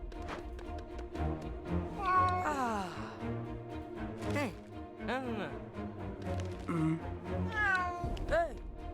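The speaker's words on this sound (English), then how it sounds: "No idea where Ron got that cat" A cat in the video game Lego Harry Potter: Years 5-7 meows repeatedly, with several drawn-out, rising and falling cries over a low steady game background.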